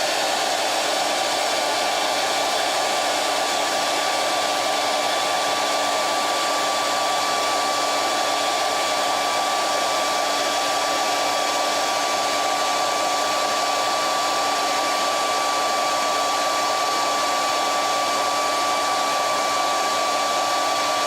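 A hair dryer blows continuously on freshly made puppet parts in a puppet-building workshop, a steady loud whooshing whine that holds unchanged for about twenty seconds with no talking.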